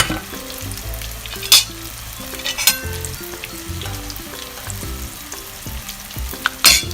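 Eggless kangkong (water spinach) fritters frying in oil, a continuous close bubbling sizzle with a few sharp crackles and spatter bursts, no talking.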